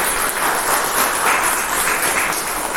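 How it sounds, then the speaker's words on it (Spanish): Applause from a church congregation during a sermon, a close, full burst of clapping that rises slightly in the middle and stays dense for a few seconds. "si ese aplauso fue para mí, les agradezco"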